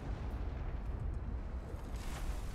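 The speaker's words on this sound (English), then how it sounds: "That explosion doesn't sound good." A deep, rumbling explosion from the space-colony game Ixion, a dense low boom that fills the whole moment without clear breaks, with no voices present.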